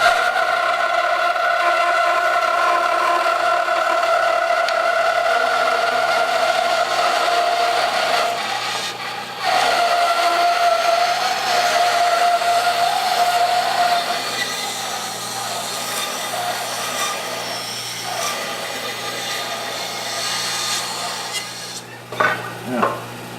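Grizzly G0817 resaw bandsaw cutting through wood, a steady loud whining motor hum with continuous cutting noise that thins toward the end, closing with a few sharp knocks.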